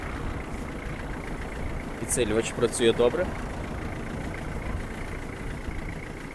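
A Kubota L1-325 Hi Speed mini tractor engine idles just after starting, a steady low mechanical drone running throughout while someone speaks briefly over it partway through.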